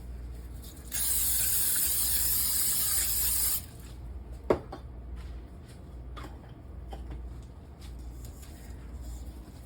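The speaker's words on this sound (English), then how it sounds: "I want to spray my loaf pan" A loud, steady hiss of cooking spray coating a loaf pan lasts a few seconds, followed by a sharp clatter and quieter kitchen handling sounds.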